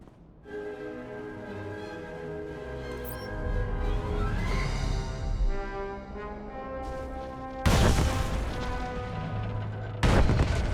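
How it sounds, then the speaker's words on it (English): Explosive charges detonating in Star Wars: The Old Republic on Voss, heard over a sustained droning game score, with two sharp loud broadband blasts near the end, the second following a few seconds after the first. "The charges have detonated."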